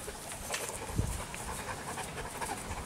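A long-haired German Shepherd pants steadily close by, with quick, rhythmic breaths throughout and no talking.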